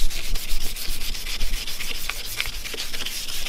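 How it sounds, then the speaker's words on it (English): Continuous rough wet sanding with 500-grit sandpaper on a Lexus SC400's paint, close and loud, with a wet, gritty rasp in short back-and-forth strokes and no voices. "We're doing a lot of wet sanding."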